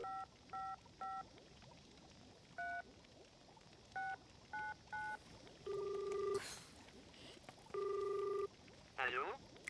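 Touch-tone dialing beeps from a toy telephone in a French advert for the secret-phone board game for two to four players: clipped pairs of tones in quick bursts, longer steady tones and a warbling ring near the end, all fairly faint.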